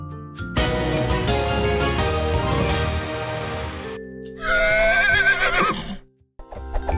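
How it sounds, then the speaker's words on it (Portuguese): A horse neighs loudly and at length, a shrill whinny that rises and falls, followed by a brief pause and a few softer snorts. "É o som do cavalo!"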